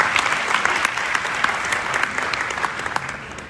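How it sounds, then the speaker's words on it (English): Audience applause at a Ghana Police Service reform presentation, a steady wash of many hands clapping, moderately loud and continuous, with no speech over it. "Please applaud Dr."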